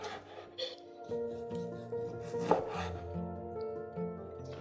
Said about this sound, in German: In dünne Scheiben schneiden.